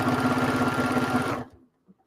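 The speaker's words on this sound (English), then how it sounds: "Let me just backstitch 700 times over that." A sewing machine backstitching through a quilt, its needle running in a fast, steady, close mechanical chatter for over a second before stopping abruptly, followed by a faint clunk.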